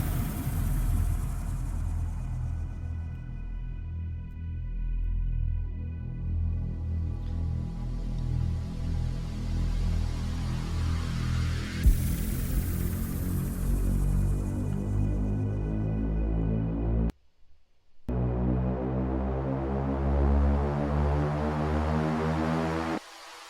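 Synthesizer root-note buildup, a dense buzzing harmonic tone whose pitch glides steadily upward through the second half, loud and continuous with a brief drop-out near the end before resuming, no talking.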